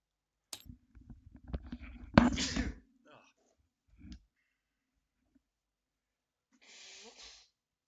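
Someone blows their nose close to the mic in a sharp, forceful honk, then a second, softer blow a few seconds later, with faint breathing and small sounds in between.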